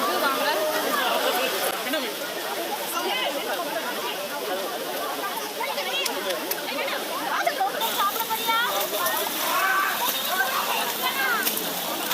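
Water sloshes and splashes steadily as people move through it, with voices chattering throughout in the background.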